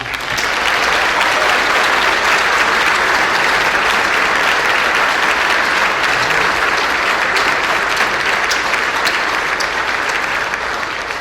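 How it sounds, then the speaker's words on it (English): A large crowd at a Washington DC rally gives a big, sustained round of applause for POWs and MIAs, a dense roar of clapping that stays loud and even throughout. "And a big round of applause for our POWs and MIAs"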